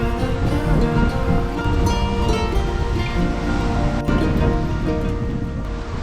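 Waves washing onto a beach on Sado Island, Japan, a steady broad surf roar that stays loud and continuous with gusty wind noise over the microphone.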